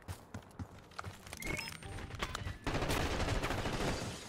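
Hostile gunfire in Black Ops 6 multiplayer, sparse sharp shots at first building into dense, continuous volleys of automatic fire that grow louder and fill the latter half, with no voices over it.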